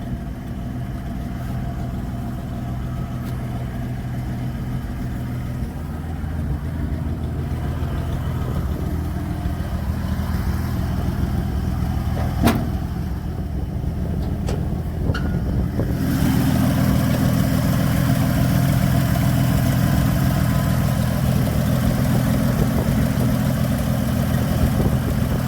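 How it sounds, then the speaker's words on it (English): A 1967 Chevrolet C20 pickup engine idles steadily and close, with an exhaust leak between the manifolds adding a puffing, ticking edge; a couple of clicks mid-way, then the idle grows louder and rougher. "I got an exhaust leak"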